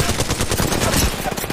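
Loud, dense rapid gunfire from a video-game firefight, including a charge rifle, keeps up a continuous automatic rattle throughout with no pauses.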